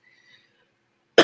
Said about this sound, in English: I'm so sorry I'm coughing.